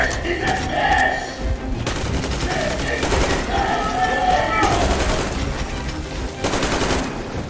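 Firefight gunfire in the Metro Exodus video game, with dense bursts of automatic shots and fusillades running nearly continuously at close range, mixed with shouting voices throughout.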